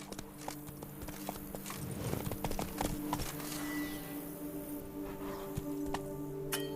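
Geralt's horse Roach trots in The Witcher 3: Wild Hunt, a steady close clip-clop of hooves running throughout over a low ambient drone.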